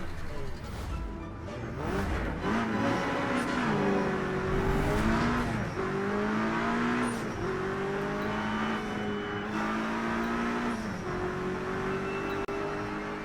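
Race cars in the Project CARS 3 video game on a Scottish track, engines whining and shifting up and down in pitch as several cars run close, with occasional tire squeal, steady and fairly near.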